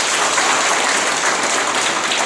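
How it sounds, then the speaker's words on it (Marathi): Loud, dense applause from an audience at a foundation branch inauguration event in Satara, continuous clapping filling the hall with no talk over it. "टाळ्या जोरात वाजवू शकतो"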